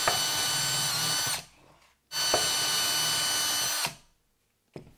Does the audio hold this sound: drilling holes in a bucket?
yes